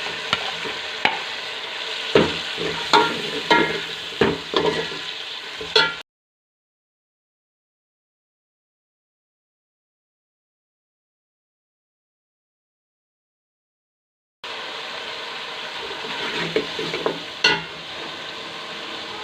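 Potato and cauliflower stir-fried with salt, chilli, turmeric, cumin, black pepper and coriander powder: rhythmic spatula scrapes and knocks over a sizzle, close and loud, broken by a long stretch of total silence before the stirring resumes.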